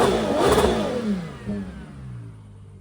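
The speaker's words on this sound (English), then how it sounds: "Let's listen to the exhaust." The exhaust of a 2024 Ferrari Purosangue barks through a sharp rev, loud and close, then falls away into a lower settling drone with a second smaller blip.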